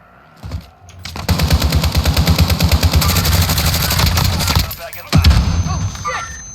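Rapid automatic gunfire in Warzone, a long sustained burst of closely spaced shots followed by a shorter louder burst, with players talking over and between the shooting.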